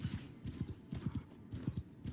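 Galloping horse hooves of mounted horse archers in Mount and Blade II: Bannerlord, a faint, steady clip-clop rhythm of many repeated thuds, distant and low in level with no talk.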